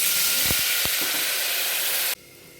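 A little water poured into a pressure cooker over a hot tempering of mustard seeds, cumin, red chili powder and turmeric produces a loud, hissing steam sizzle with a few sharp crackles. The hiss then drops abruptly to a quieter level.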